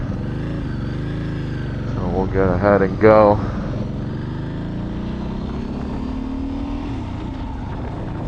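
A 2006 Ducati Monster S2R ridden along quiet back roads gives a steady, droning engine note from up close, with a brief stretch of talking over it partway through.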